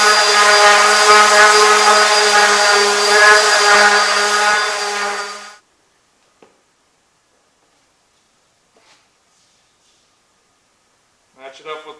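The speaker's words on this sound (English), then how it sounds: "we're going to do all the sanding" A loud electric sander whirs steadily on wood for about five seconds, then cuts off, leaving near silence with a few faint clicks and a short rattle at the end.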